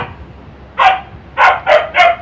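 A dog barks four times close by, one sharp bark followed by three quick ones, loud against a quiet background.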